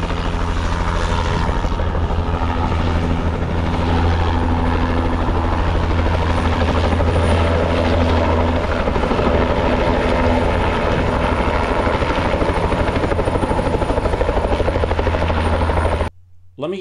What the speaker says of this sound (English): We had the helicopter taking off and now it's landing